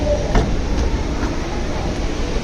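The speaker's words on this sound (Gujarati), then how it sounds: "બેસી ગયા મેટ્રોમાં." A metro train runs with a steady, loud rolling rumble and faint rhythmic rail clicks, heard close from on board, with no talking.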